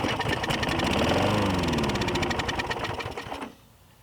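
A Toro Super Recycler lawn mower engine runs briefly on starting fluid, a loud, close, rapid buzzing putter that holds steady for about three seconds, then abruptly cuts out and falls silent.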